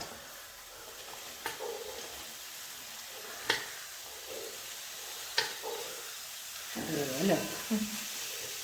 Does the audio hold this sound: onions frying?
yes